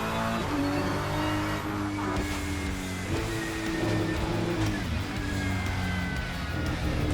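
Race car in a racing video game driving hard through corners, a steady loud engine drone with shifting pitch as it brakes late and takes the kerbs, continuous and close throughout.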